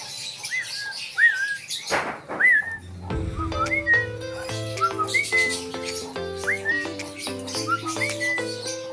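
Birds at a bird farm chirp and whistle in short repeated calls, fairly close, over a steady layer of sustained tonal notes.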